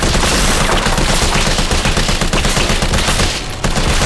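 Rapid gunfire in the Resident Evil 3 Remake video game, a dense, loud, continuous barrage of shots lasting several seconds, with only a brief dip near the end.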